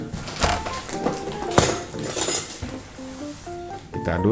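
A spoon stirs a cup of green tea, with light clinks and scrapes against the cup scattered through, fairly close, over faint background music.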